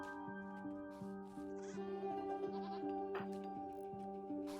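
Goat bleating in the game RimWorld, a wavering animal cry over a steady looping music bed with evenly pulsing tones, the bleat rising midway and fading back under the music.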